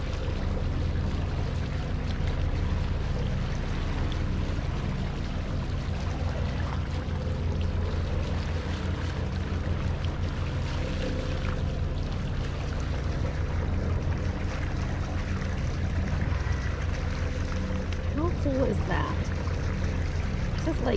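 A Leopard catamaran motors at sea between Carriacou and St Thomas, its steady engine drone mixing with rushing water and wind throughout, and voices speak now and then over it.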